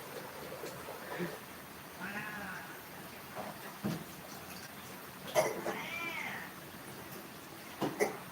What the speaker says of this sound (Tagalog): Alagang pusa.